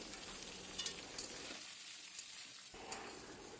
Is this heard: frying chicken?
yes